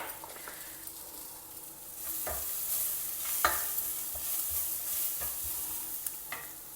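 Onions with turmeric powder stir-fry in a pan for a South Indian potato sagu, a steady soft sizzle broken by several sharp scrapes of a spoon against the metal, close and moderately loud, with no voices.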